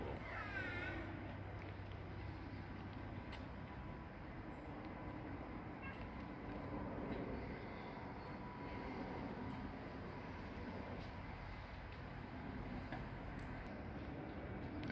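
A Munich U-Bahn subway train pulls out of a siding near Kieferngarten, a steady distant rumble of wheels and motors with broadband rail noise that holds for the whole stretch.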